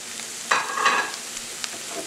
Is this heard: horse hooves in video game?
no